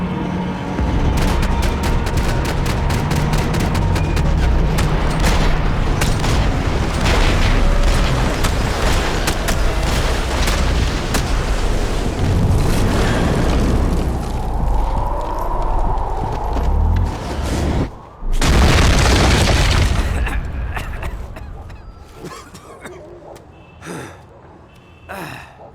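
Dense gunfire and booming blasts fill a Max Payne 3 shootout with loud, sustained rapid shots, then a sharp heavy burst sounds near the end before the noise fades.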